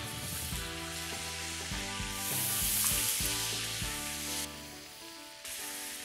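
Butter and bacon fat melting in a pan for a roux, a steady bright sizzle and hiss that swells briefly in the middle, heard under background music.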